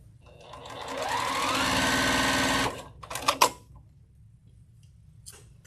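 Domestic sewing machine stitching fabric at a steady rising whir for about three seconds, then stopping with a few close mechanical clicks and knocks, alone without talk.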